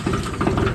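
An engine runs close by with a low, throbbing chug and a rough, uneven beat, loud and alone for under a second.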